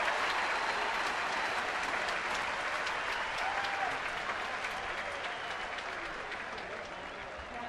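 A crowd at a Colorado Rockies game in San Francisco applauds Todd Helton in a steady, distant wash of clapping that slowly fades toward the end.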